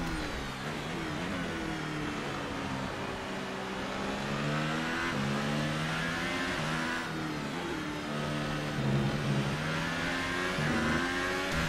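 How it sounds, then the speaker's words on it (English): Race car engine in a racing video game at Circuit de Spa, heard from the cockpit while tucked in a slipstream; a loud continuous engine drone rising and falling through gear shifts, alone without talk. "Whenever, like, I'm right behind them, it's kind of quiet, right? You just hear my engine."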